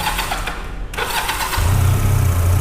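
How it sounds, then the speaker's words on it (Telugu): A QJ Motors SRC 250 motorcycle engine cranks over briefly, then catches and settles into a steady, close, loud idle. "ఈ బండి స్టార్ట్ చేసి చూద్దాం."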